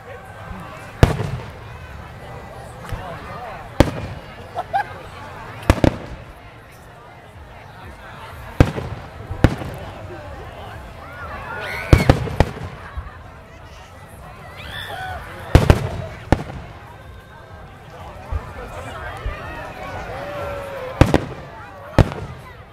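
Fireworks in Cupertino, California bang repeatedly at irregular intervals, sharp booms over a steady crowd murmur with people chatting nearby.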